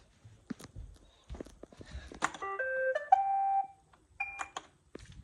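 A Roomba robot vacuum sounds a short run of electronic tones, stepping through a few pitches in about a second and a half, then a brief two-tone beep follows after a pause, with faint clunks around it.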